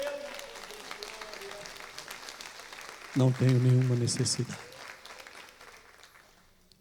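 A burst of applause from a church congregation rises abruptly, holds for about a second and a half, then fades back under a speaking voice.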